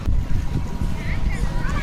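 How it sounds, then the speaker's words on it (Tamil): A motor boat rides across a lake, a brief low engine rumble mixed with heavy wind buffeting against the microphone. "இந்த மோட்டர் போட் ரைடிங் பண்ணி பார்க்குறேன்."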